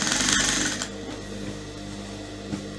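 An electric sewing machine stitches fabric for a rope-waist dolman gown. A louder mechanical burst in the first second gives way to a steady whirring hum with rhythmic needle clatter, close up, and no talking.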